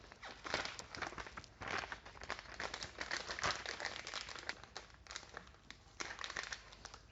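A plastic piping bag is cut to size and handled while Italian meringue is prepared. Quiet crinkling and rustling come up close in irregular bursts throughout.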